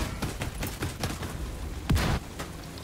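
Rapid bursts of repeated auto cannon shots in The Division 2, thudding in an irregular rhythm with one heavier blast near the end.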